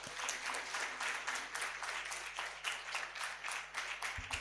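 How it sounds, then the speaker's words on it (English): A crowd claps at a culture launch event, a steady round of applause with individual claps audible in a fairly even rhythm, continuing for several seconds at moderate volume. "I think she deserves a better round of applause."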